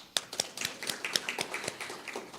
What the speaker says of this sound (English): let's give a round of applause to those who actually made it